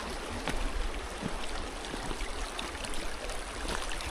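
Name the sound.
Dardara waterfall water flowing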